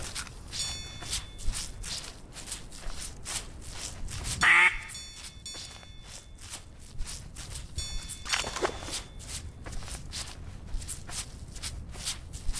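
Duck quacking sound effects in a video game, repeated quacks over a shuffling rhythmic footstep-like patter, with one sharp bright burst in the middle, fairly quiet.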